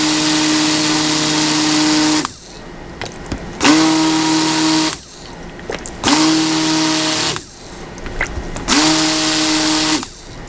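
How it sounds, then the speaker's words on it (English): A stick blender mixing root beer soap whirs in four loud bursts of a couple of seconds each, separated by short pauses with quiet clatter. "I'm going to go ahead and use the stick blender"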